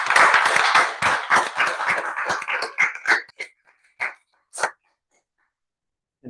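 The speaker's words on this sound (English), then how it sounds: "let's give a round of applause for also Terry" A small audience claps at the close of a university discussion with a Stanford professor, a dense burst of hands that thins to a few scattered final claps and then falls silent.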